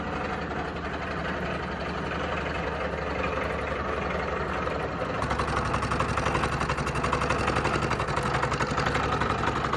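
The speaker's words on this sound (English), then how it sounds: "what I'm doing here is just milling some material off this bracket to clear the rack" Milling machine cutting material off an aluminium alternator bracket for a billet SR20 engine swap, a steady droning whir that steps up louder and rougher about halfway through, no voices.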